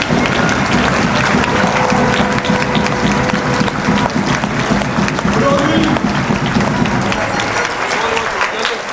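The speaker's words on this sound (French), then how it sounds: "un peu d'applaudissements pour les 2 équipes" Crowd applause for two basketball teams at a Swiss LNAM playoff game between Les Lions de Genève and Union Neuchâtel, loud continuous clapping filling the gym, with an announcer speaking near the end.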